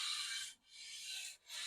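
Sandpaper rubs across wood with light pressure in two or three smooth, close back-and-forth passes, each a soft raspy hiss separated by short pauses, with no talking.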